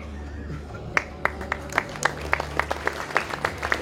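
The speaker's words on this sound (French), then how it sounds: "On applaudit ça aussi" Scattered applause and individual claps from a pageant audience after a contestant is introduced, building from a few sharp claps into steadier clapping under a low hum.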